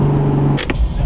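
A Nissan 350Z engine running loud and close, with a steady low exhaust drone that breaks into a brief sharper burst near the end.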